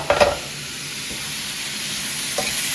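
Shrimp stir-fry sizzling in a pan on a burner, a brief louder stirring burst at the start settling into a steady, moderate frying hiss throughout.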